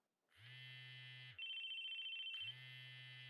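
An electronic mobile phone ringtone in the Chaos;Head video game plays as a loud, bright, buzzy synthetic tone that briefly switches to a warbling trill before the steady tone returns.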